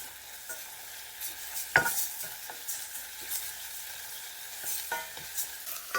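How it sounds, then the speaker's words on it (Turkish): Garlic sautés with tomato paste in a pan, a steady close sizzle broken by the scrape and clack of a spoon stirring, with one sharper knock near the start and lighter taps throughout. "Şimdi sarımsak koyalım. Sarımsakla kavuralım."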